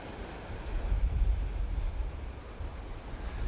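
Ocean waves rolling against boulders along an Azores coastline by a small fishing port, a low, rumbling surf with gusty wind buffeting the microphone.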